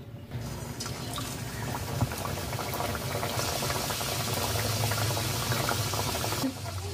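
Hot Dalda fat bubbling in a wok over high flame, a dense, continuous crackle and bubbling that swells slightly and holds steady, close and without talk.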